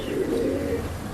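Pigeons in a pet shop give a soft, low, throaty coo, one short murmuring call at close range over a dull room hum.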